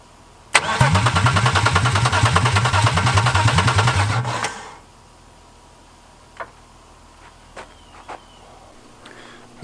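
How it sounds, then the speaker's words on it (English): A BMW E36 engine with a hardwired starter cranks loudly and rhythmically for about four seconds, then cuts off sharply. A few faint clicks follow in near silence. "it just started to crank over, being hardwired in"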